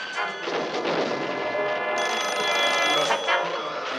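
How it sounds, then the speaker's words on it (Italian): A telephone rings insistently amid a loud, chaotic household din, with a shrill electronic tone joining partway through and no voices. "Sta suonando il telefono."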